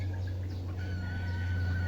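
Faint chickens cluck and call in the distance over a steady low hum, with no talking.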